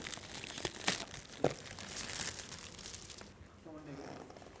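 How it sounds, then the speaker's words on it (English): Wrapping on a gift is torn and crumpled in a few sharp crinkling bursts and rustles, fairly close and moderately loud, followed by quieter handling while a voice murmurs in the background. "You need to unwrap it."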